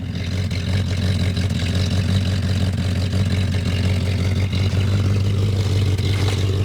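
An old car engine, in need of a rebuild, idles steadily after a cold start in sub-zero temperatures, with a low, uneven rumble and faint mechanical clatter, running alone without voices.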